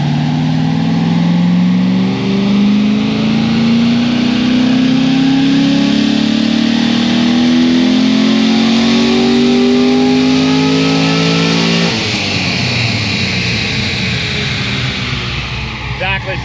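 A Corvette Z06 with a new heads and cam package roars through a dyno pull, its engine note climbing steadily under load for about twelve seconds before lifting off and settling into a rough, burbling idle.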